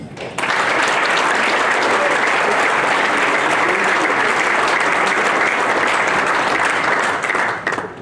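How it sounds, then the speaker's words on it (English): Audience at a football writers' awards dinner applauding a recipient, with steady, dense clapping that stays loud and continuous for about seven seconds before tapering at the end. "I think a round of applause in order for our next recipient, Paul Simpson."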